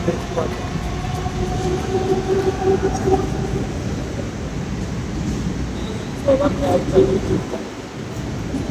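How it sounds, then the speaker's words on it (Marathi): A Thane-bound Mumbai commuter train rolls by with a continuous rumble and squealing metallic tones from the wheels, loudest near the start and again toward the end. "ठाण्याची ट्रेन गेली"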